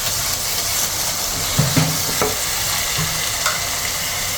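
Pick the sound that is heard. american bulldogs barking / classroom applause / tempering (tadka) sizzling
tempering (tadka) sizzling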